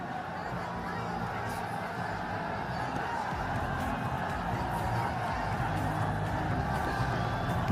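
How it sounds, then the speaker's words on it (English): Cricket crowd in the stands at a Nepal versus Netherlands match, a steady broad roar of cheering and chatter holding throughout at a constant level. "This crowd's getting into it."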